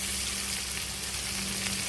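Shrimp with green chillies and red chilli powder sautéing in a pan before red spinach goes in, a dense, even sizzle filling the whole moment without pause.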